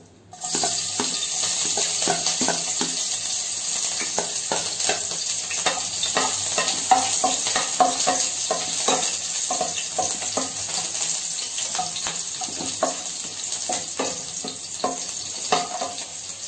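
Green chillies fry and sizzle in hot oil, a steady loud crackle running the whole way with frequent sharp pops and spatters, no voices.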